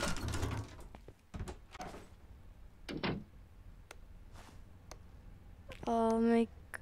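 A door opens in the horror video game Precipice with a short, bright mechanical creak-like sound near the end, following quieter thumps and background noise.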